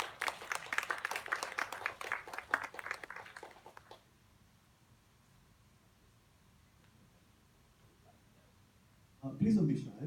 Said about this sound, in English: let's give them a round warm applause